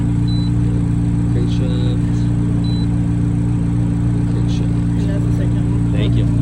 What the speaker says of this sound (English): here goes the cold start